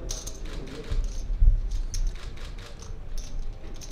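At a poker final table, a dealer shuffles and riffles cards in a steady run of soft, quick clicks and flutters. The sound is close, with a low murmur of the room behind it.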